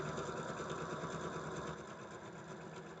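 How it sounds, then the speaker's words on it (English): A sewing machine runs steadily, stitching through quilt block fabric for a continuous, even whir at close range with no pauses, heard alone. "Stitching along."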